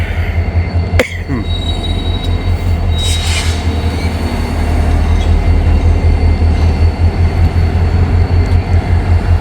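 A loud CSX freight train carrying huge stones rumbles steadily past close by, wheels clattering and squealing on the rails, with a sharp metallic bang early on.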